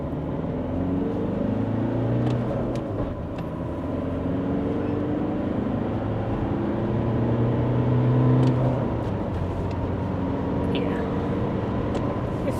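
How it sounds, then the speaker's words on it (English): A diesel Alfa Romeo 159 2.0 JTDM pulls from inside the cabin, a steady engine drone building gradually under acceleration, with a voice speaking over it. "Let's accelerate."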